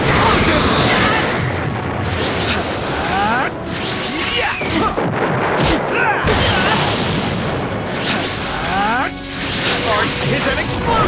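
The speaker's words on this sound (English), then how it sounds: "It's an explosion!" Loud booming blasts and whooshing impacts crash in a dense, chaotic stream of effects in Naruto Shippuden: Ultimate Ninja Storm 3, with voices and sweeping sounds layered over them.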